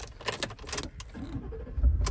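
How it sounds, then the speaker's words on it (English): A key jingles and turns in the ignition of a 2020 Ford F-150 XLT FX4 pickup, close metallic rattles followed by a low engine rumble starting up at the end. "Let me turn the vehicle on here."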